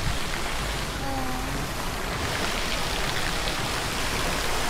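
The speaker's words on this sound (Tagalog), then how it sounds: "may tumutulo doon malakas oh, galing sa kanal" Steady, loud rush of water falling from a drain, like a heavy drip or trickle, continuous throughout with a faint brief voice early on.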